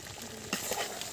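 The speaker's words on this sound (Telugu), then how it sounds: "కొంచెం గరం మసాలా, ఇంకా ఉడకనిద్దాము కొద్దిసేపు" Country chicken curry with garam masala bubbles and sizzles softly in a pot, a quiet, steady simmer with one small pop partway through.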